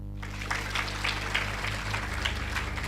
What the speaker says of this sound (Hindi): क्यों ताली बजाया?